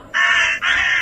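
A person imitates a crow's caw with two loud, harsh, drawn-out calls in quick succession, close to the listener and heard alone.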